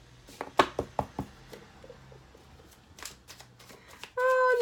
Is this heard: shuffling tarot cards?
yes